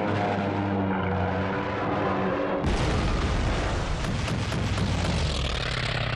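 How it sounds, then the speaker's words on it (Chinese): Japanese artillery fire shooting down American bombers in WWII, in a war documentary: music gives way abruptly to a loud, sustained, dense roar of gunfire and blasts that continues to the end. "美军的轰炸机一架接一架地被日军的大炮击落"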